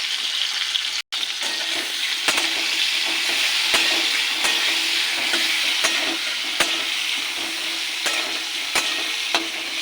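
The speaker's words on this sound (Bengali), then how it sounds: "এটাকে ভালো করে লাল করে ভেজে নেব।" Cauliflower and turmeric fry in a pan for khichdi, producing a continuous loud sizzle close by, punctuated by regular sharp clicks and scrapes of stirring, without any speech.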